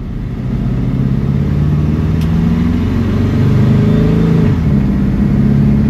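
A 1970 Chevrolet C10 short-bed pickup with a mild-cam stock-style 350 V8 idles steadily as it warms up, then pulls away with a low, rumbling engine note that rises slightly, heard close and alone.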